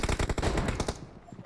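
Rapid automatic gunfire in a PUBG Mobile team deathmatch, a dense burst of close, loud shots in quick succession that cuts off and leaves a short quiet tail.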